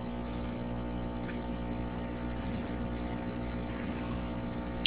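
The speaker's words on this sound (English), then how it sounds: "I'm just going to heat this up about 30 seconds just to make it softer" A heat tool softens epoxy on an Xbox 360 board during a red ring of death repair, its steady fan-driven whirr droning evenly throughout with a faint click at the very end and no talking.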